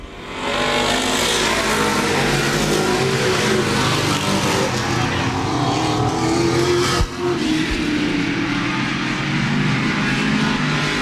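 Race cars racing at Laird Raceway in a Thursday night oval event, a loud continuous roar of multiple engines at full throttle passing close by, dense and unbroken throughout.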